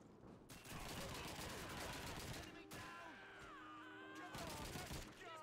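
Bursts of rapid gunfire in the World War II video game Call of Duty 2, dense automatic shooting with short pauses between volleys, mixed with shouting voices and battle noise.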